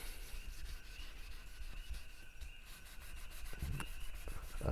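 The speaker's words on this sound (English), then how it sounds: "basically you're just rubbing it across your frets in your fretboard" A cleaner is rubbed across the frets and fretboard of a Schecter Omen 4-string bass, a close, steady scrubbing friction sound with rhythmic strokes and a few light knocks near the end.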